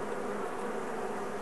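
Honey bees hum around an opened Langstroth hive, a steady, close, unbroken buzzing with no voices over it.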